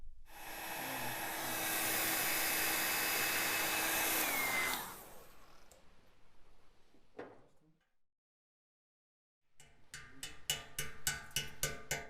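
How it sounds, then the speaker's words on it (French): A hot air tool roars loudly with a steady broadband hiss while heating a café racer motorcycle frame, then cuts off and winds down, followed by silence and a series of sharp metallic taps. "Maintenant, je vais réchauffer le cadre parce que je veux que ce petit morceau se dilate un peu"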